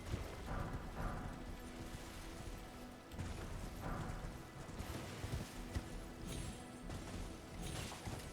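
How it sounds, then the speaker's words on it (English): In Elden Ring at Castle Morne on the Weeping Peninsula, a mounted knight's horse clip-clops in a steady rhythm, with intermittent heavier thuds and metallic crashes mixed in at moderate volume. "So there's the knight on the horse."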